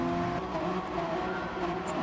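Race car engine in a racing video game roaring steadily as the car launches off the start line on a standing start, a loud continuous drone with layered harmonics and no pauses.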